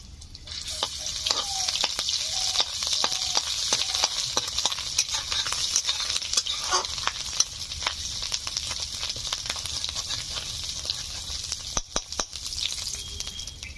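Whole cumin seeds and ginger paste sizzle loudly in hot oil in a pan for a village-style bottle gourd and prawn dish. The sizzle is a dense, continuous hiss with scattered pops and stirring scrapes throughout.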